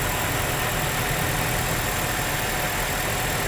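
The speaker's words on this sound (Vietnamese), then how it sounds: "Tiếng máy nổ rất là đều nha quý vị." Toyota Innova V 2013 engine idling with a steady, even hum that holds constant and loud throughout, with no voices over it.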